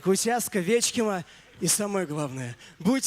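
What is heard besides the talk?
None of the usual background noises is heard.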